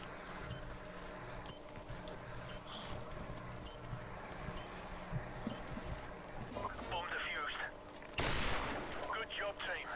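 Gunfire in Call of Duty: Modern Warfare Remastered, scattered shots and bursts over a busy game soundscape, with a louder burst near the end and a player talking over it.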